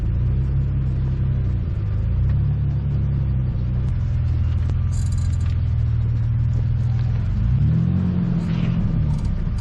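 A Jeep's engine rumbles and revs steadily while it turns on an off-road trail, a continuous close, loud drone with rising and falling pitch swells and no talk.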